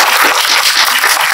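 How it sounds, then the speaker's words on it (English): An audience at a shark research panel discussion applauds, a dense, loud wash of clapping held steadily for just over a second, no voices over it. "Round of applause for Greg."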